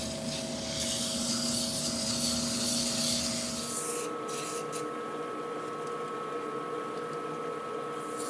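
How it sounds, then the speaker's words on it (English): Sandpaper rubbing a small wooden sphere spinning on a woodturning lathe, a steady close hissing scrape over the lathe's hum that eases off partway through while the motor keeps running. "we can sand this with the lathe running."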